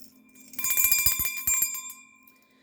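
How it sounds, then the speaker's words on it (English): An antique hand bell rung near and loud, a quick cluster of bright metallic strikes leaving a shimmering ring that fades out, with no voices. "I'm going to ring my antique bell"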